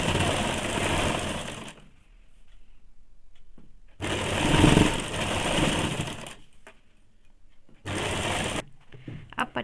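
Sewing machine stitching a folded half-inch hem on a blouse: three separate loud bursts of rapid mechanical whirring, with quiet gaps between them holding soft handling noise.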